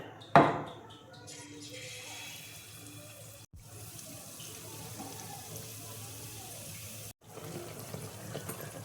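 Malpua batter sizzles steadily in hot oil in a kadai, a sudden burst as a ladleful goes in, then a continuous close hiss with faint clinks and brief pauses.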